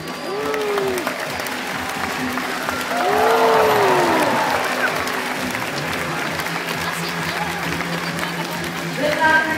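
Audience applause at a SeaWorld dolphin show on the Gold Coast, Australia, a dense steady clapping that swells midway and carries on throughout, with a few voices and whistle-like dolphin calls poking through the crowd.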